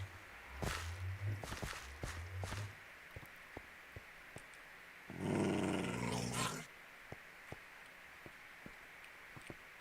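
A hostile wolf in the Minecraft video game growls in short low bursts, followed by a louder snarl, with scattered faint clicks and steps around it.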